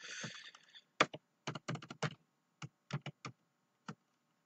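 Keys clack on a computer keyboard in quick, uneven bursts of taps with short pauses, close and fairly quiet, no talk.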